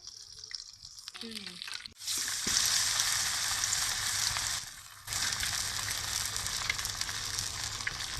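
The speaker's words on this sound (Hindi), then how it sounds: "फिश हमारे फ्राई हो रहे हैं।" Spicy fish frying in a pan: after a brief voice and clatter, a loud sizzle bursts in, dips briefly partway, then resumes strongly to the end.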